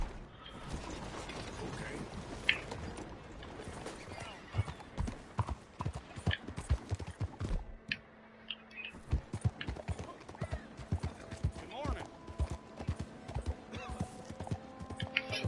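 In the Red Dead Redemption 2 video game, horse hooves clip-clop in a steady, fairly quiet rhythm, with creaking tack and faint mechanical clicks mixed in and no one talking.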